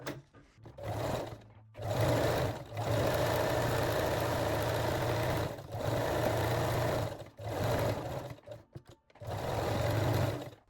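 A sewing machine stitching fold-over elastic on a lingerie bralette, running in several sustained bursts of steady motor whir and rapid needle rhythm, separated by short pauses, close and fairly loud.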